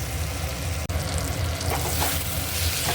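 Potatoes cooking down in a spice paste with oil for a duck egg curry give a dense, continuous close-up sizzle and frying crackle, broken once by a brief dip, with soft scraping of a spatula.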